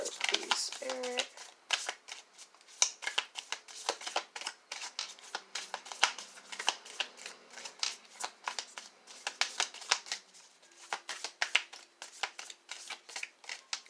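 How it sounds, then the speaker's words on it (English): Playing cards are shuffled repeatedly in quick bursts of crisp riffling and flicking, close up, with a brief voice near the start. "These cards are so hard to shuffle."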